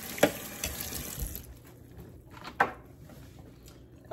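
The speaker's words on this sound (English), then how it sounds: "I just finished washing this knife to rinse it off again." A kitchen tap runs water over a knife during strawberry jam making: a gush of running water with small clinks for about a second and a half, then the flow stops and the room goes quiet apart from one faint knock.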